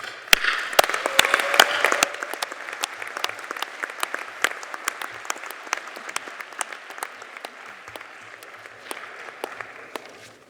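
Applause from a large audience at a university graduation ceremony in a hall, with sharp individual claps standing out over a crowd that is fuller at first and gradually thins.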